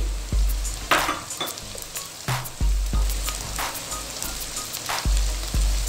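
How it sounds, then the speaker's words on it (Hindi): Chopped onions and cumin seeds frying in oil in a pan for brinjal biryani, a steady close sizzle broken by repeated scraping stirs of a spoon against the pan, loud and with no talking. "प्याज को हम थोड़ा सा लाइट ब्राउन करेंगे"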